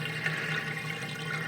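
Water runs steadily down an aquaponics overflow standpipe in an indoor goldfish setup, a continuous close rushing, gurgling flow that sounds much like a toilet flushing, with no talk.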